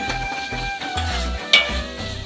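A spoon stirs Kerala-style dried fish roast in a pan after vinegar goes in, soft scraping and clinks over a gentle sizzle, with one sharper metallic knock partway through; close and brief.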